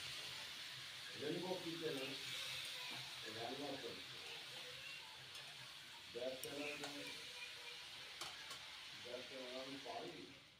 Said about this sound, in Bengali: জল দিয়ে গুঁড়ো মশলাটা বেশ কষিয়ে নেব